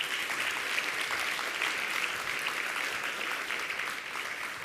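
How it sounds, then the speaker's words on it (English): Steady audience applause for a speaker at a presentation, a dense wash of clapping from a crowd heard at moderate distance, continuous and even without voices. "Let's give her another big round of applause."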